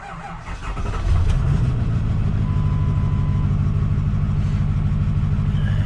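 A Ford F450 truck engine with misfiring cylinders starts up and settles into an uneven, rough idle, a loud close low rumble with a lumpy, stumbling pulse that continues steadily after the start, with no one speaking.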